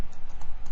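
Computer keyboard keys typed in a quick, even burst of about a dozen close, crisp clicks lasting under a second, with no talk.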